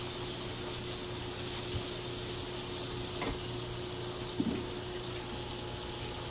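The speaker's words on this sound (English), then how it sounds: "Let me give my cutting mat a quick rinse." Tap water runs steadily as a cutting mat that held zucchini is rinsed in a sink, with a soft knock partway through.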